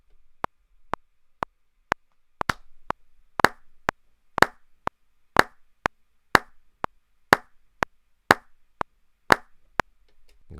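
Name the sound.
hand claps recorded as MIDI in Logic Pro X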